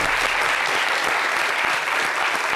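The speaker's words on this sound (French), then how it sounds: "Merci de l'applaudir." Studio audience applauding steadily for a singer on a French TV show, a dense, loud, continuous clapping with no talk over it.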